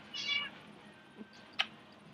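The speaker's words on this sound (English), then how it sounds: "Oh, this is my kitty." A cat gives a drawn-out meow, then a short chirpy mew a moment later, close by in a quiet room.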